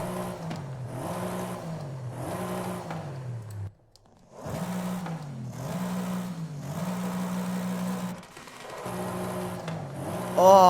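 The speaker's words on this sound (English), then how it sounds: "This is the big one, boys. Listen to this. Stock exhaust." A Mercedes-Benz E63 S with stock exhaust in the video game Forza Horizon 5 revs repeatedly in steady, rising and falling bursts, with a brief pause midway before the revving resumes, loud and close.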